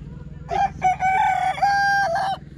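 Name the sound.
rooster crowing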